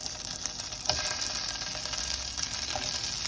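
Plant-based lentil cheese slices with roasted garlic flavour frying in a teaspoon of hot oil in a pan, giving a steady close sizzle with faint crackles and no talk.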